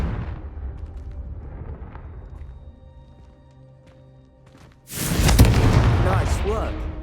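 Confringo fire spells explode in Hogwarts Legacy, a loud, dense burst at the end that roars across the whole range, after a stretch of quieter game ambience and faint talk.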